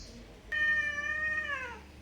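Cat outdoors near a new home giving one clear, drawn-out meow that starts abruptly and then slides downward in pitch, loud and close after a quiet start.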